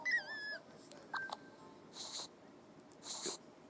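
A dog whimpers in a few faint, high, wavering whines, with short nasal snorts or breaths between them, in an otherwise quiet room.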